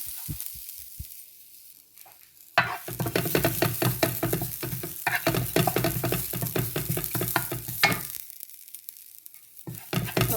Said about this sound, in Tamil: இனி இந்த தேங்காய் பூவையும் லைட்டாக வறுத்தெடுப்பேன்